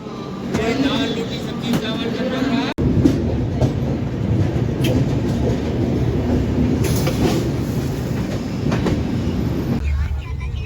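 A train passes close by, a steady rumbling roar with rail clatter lasting the whole stretch, heard from inside a railway carriage at a station on a Mathura to Nagpur journey, with voices faintly under it.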